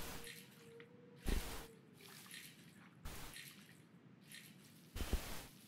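Water sloshes as pay dirt is washed in a pan in a gold-prospecting video game, with three or four short, close splashy bursts separated by quieter watery trickling, no voices.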